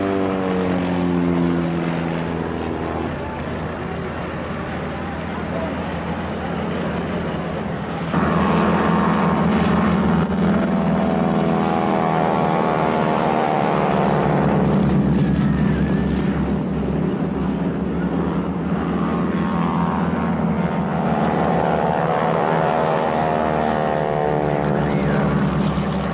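A Pitts aerobatic biplane with a 270 horsepower engine drones and snarls at the Leicester airshow, a continuous propeller roar rising and falling in pitch as it passes, heard from the crowd line for a long stretch.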